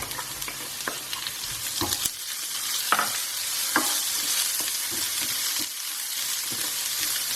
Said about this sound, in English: I'm going to saute these onions with this ginger and garlic till it turns translucent.